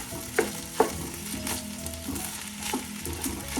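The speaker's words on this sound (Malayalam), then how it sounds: "അരിയെല്ലാം ഒരുവിധം ഫ്രൈ ആയിട്ടുണ്ട്." Rice frying in a pan for chicken biryani made with jeerakasala rice hisses with a soft, steady sizzle, while a utensil stirs it with a few light scrapes and clinks, close and without voices.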